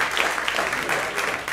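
Comedy show audience applauding and cheering a comedian on stage, a dense burst of many hands clapping close by throughout.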